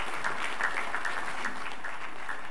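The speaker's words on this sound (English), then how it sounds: "Let's give all of our guests a big round of applause" Steady clapping from a church congregation, a dense patter of many hands at moderate volume with no voices over it.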